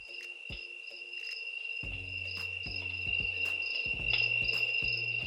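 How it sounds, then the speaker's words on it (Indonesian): Night cricket sound effect played from a smart alarm clock: steady high-pitched chirring trills run continuously, with low thumps and clicks from handling underneath. "Ada pilihan lain juga seperti suara jangkrik malam."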